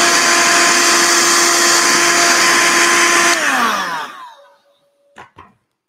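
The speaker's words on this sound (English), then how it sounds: "let's just vacuum that static grass out of the way first" Vacuum cleaner sucking loose static grass off a model railway layout, a loud steady whine that runs for several seconds, then drops in pitch as the motor spins down to silence, followed by two brief faint clicks.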